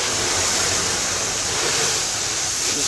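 A water hose rinses a new car, making a loud, steady, broadband rushing spray that stays constant throughout with no talking over it.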